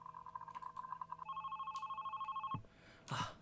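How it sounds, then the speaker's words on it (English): A telephone rings in the horror game Love, Sam, with repeated electronic trills and then a longer sustained ring, cut off by a clunk as it is picked up; no one talks over it. "A phone call."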